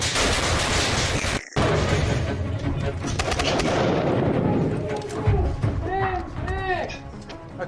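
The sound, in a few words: stun grenade multi-bang (nine banger) going off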